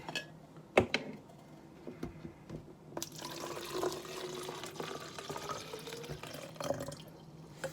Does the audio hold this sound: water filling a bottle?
yes